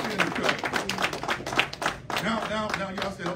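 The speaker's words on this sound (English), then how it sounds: "Somebody give my hand clap of praise." Church congregation clapping in praise during a sermon by a pastor, a quick run of fairly soft claps with a voice talking over them.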